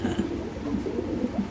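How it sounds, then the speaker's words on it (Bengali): A male Lahori pigeon, a breeding bird sitting on eggs, coos in a steady, low, throaty series of rolling notes, fairly close, with no talking over it. "এই যে নরের ডাক।"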